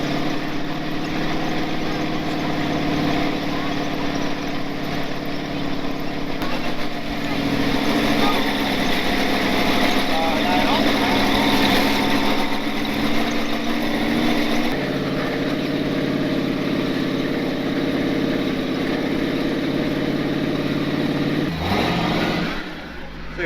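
A 1948 V8 Willys driving along a snowy wilderness road, its engine droning steadily and loudly with a continuous broadband rumble that swells slightly midway, then cuts down near the end.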